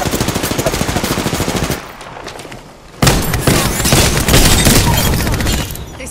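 Rapid automatic gunfire in the Apex Legends video game rattles loudly in a sustained burst, breaks off briefly, then resumes with more dense, close shots and heavy impacts.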